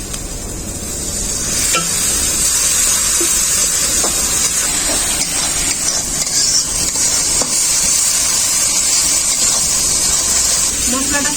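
Masala fries in a pan with water just added, giving a loud, steady hiss and sizzle with occasional stirring clatter throughout; a voice speaks over it.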